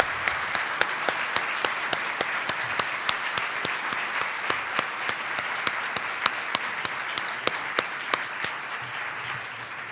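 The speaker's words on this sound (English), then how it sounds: "Please join John and me in a round of applause one more time" Sustained audience applause at the NYU Alumni Awards honoring alumni, a steady dense patter of many hands with sharper individual claps standing out, filling the hall without talk.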